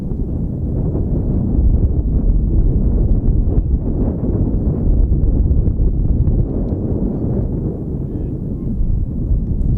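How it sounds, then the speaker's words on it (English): Strong wind gusts buffet the microphone at an outdoor baseball field, a loud, continuous low rumble with no talk heard over it. "Strong wind gust there."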